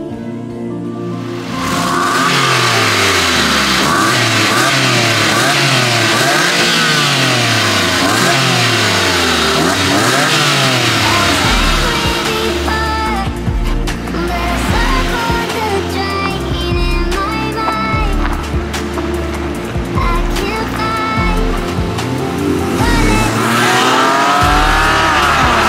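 A Porsche 911 997 Carrera 4S engine revs hard on the road, loud and close, climbing through repeated sweeps that suggest gear changes. The engine drones steadily at high power throughout.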